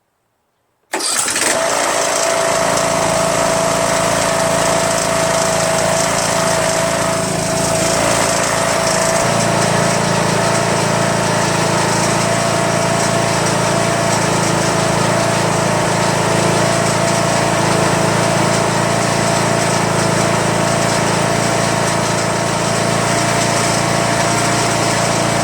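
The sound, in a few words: Troy-Bilt lawn tractor Briggs 21HP Intek engine running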